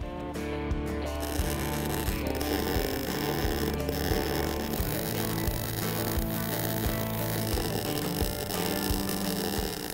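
A MIG 90 welder running a bead across a Jeep bumper at around 115 amps, a continuous buzzing crackle with a strong electrical hum, steady and close for the whole stretch.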